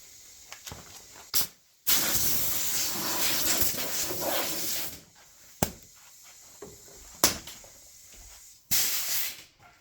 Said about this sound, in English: I'll get the blower actually